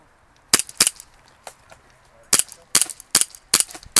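A KWC Colt 1911 A1 CO2 airsoft pistol fires a series of sharp, loud cracks, some in quick pairs and others spaced apart, with short gaps of near quiet between them.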